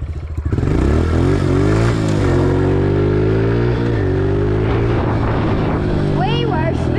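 A dirt bike revs hard in deep mud, its engine loud and close with sweeping pitch changes as the rear wheel spins and bogs, and a voice calls out over it.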